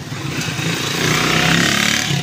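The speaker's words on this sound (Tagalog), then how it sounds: "Maingay lang po ng konti kasi sa motor." Loud, continuous motorcycle engine noise close by on a highway, a rough mechanical roar with rattling overtones that swells slightly midway.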